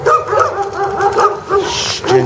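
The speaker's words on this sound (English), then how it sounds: "We got dogs over there." Dogs at an outdoor training session bark and whimper in short bursts through the clip, fairly close and steady in loudness, with a brief hiss of background noise near the end.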